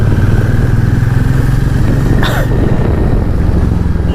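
Hero Maverick 440 motorcycle engine running steadily, a constant low rumble with no talk over it, apart from one brief higher swishing sound partway through.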